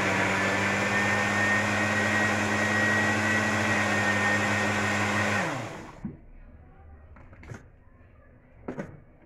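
An electric mixer whirs loudly and steadily while beating qatayef batter, then winds down and stops, followed by a few faint clicks and knocks.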